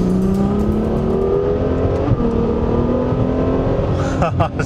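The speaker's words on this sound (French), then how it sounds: "Les montées en régime ultra rapide sont ponctuées par des changements de vitesse éclairs" A high-revving Ferrari F12berlinetta V12 engine climbs steadily in pitch, loud and close, with a brief quick gearshift near the end before revving again.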